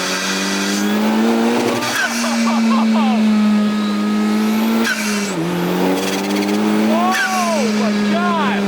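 An Ariel Atom 4 sports car accelerates hard, its engine holding a loud, high strained drone with sharp shifts and revving surges, tires chirping, while people shout and talk over it.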